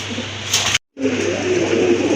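A pair of large fancy pigeons coo softly and steadily up close, with a brief break in the sound partway through.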